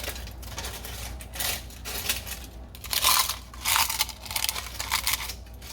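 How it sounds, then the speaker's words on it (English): Dry, brittle crunching of dehydrated food in uneven bursts, close and fairly quiet, with crackly bites clustered together and short pauses between them. "I like the crunchy sound."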